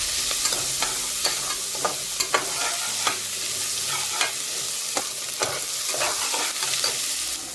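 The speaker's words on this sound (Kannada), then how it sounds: "ಬಟಾಣಿ ಹಾಕ್ಕೊಂಡು ಆ ಎಣ್ಣೆಯಲ್ಲಿ ಚೆನ್ನಾಗಿ ಫ್ರೈ ಮಾಡಬೇಕು" Green peas frying and being stirred in hot oil in a pan, a steady sizzle with repeated scraping stir strokes throughout, close and alone without talk.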